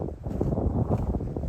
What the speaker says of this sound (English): It's windy though, so I guess we'll see how it goes.